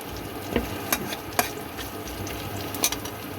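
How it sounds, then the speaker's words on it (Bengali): Onions frying in a wok, a steady low sizzle with a few sharp clinks of a spatula scraping and stirring against the metal, close up and with no talking. "আমার পেঁয়াজগুলো হালকা হালকা ভাজা হয়ে এসছে"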